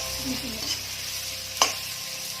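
Crushed garlic stirred into browned onions in a frying pan for an Assamese singi fish curry: a soft, even sizzle with light stirring, and one sharp utensil clink near the end.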